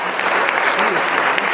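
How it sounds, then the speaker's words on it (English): A room full of people applauds steadily at a Mahavir Jayanti celebration, dense, even clapping throughout with no pause. "So please give a big round of applause to our nation,"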